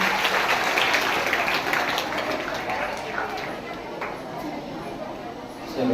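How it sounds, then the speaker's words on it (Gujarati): An audience at a mono-acting competition claps in a steady, dense wash of applause that fades slightly toward the end, with voices chattering underneath. "તાળીઓ પાડજો બધા."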